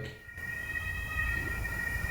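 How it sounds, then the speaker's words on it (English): An emergency vehicle siren sounds on a Berlin street, a steady wailing tone over a low rumble of traffic, moderately distant and continuous. "half the time I spend just waiting for the sirens to go away"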